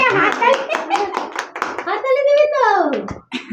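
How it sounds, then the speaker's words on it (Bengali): Quick rhythmic hand claps at a birthday cake cutting, close by and mixed under a voice and other people's voices. "হাততালি দাও সবাই"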